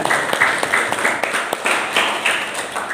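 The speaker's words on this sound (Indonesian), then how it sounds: "Kita tepuk tangan." An audience claps after a village-themed fashion show, giving a short round of fairly loud, uneven applause with distinct individual claps.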